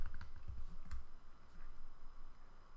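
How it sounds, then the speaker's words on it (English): Typing on a computer keyboard while coding a Python turtle graphics game, heard as a quick burst of soft, close key clicks at the start, then a sparser tapping over a faint steady background hum. "I'm going to type sprite.init."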